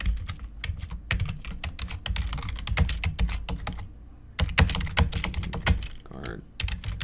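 Rapid keystrokes on a computer keyboard while working in a financial statement model, clicking in quick bursts with brief pauses, fairly close and clear, with faint speech-like sound underneath.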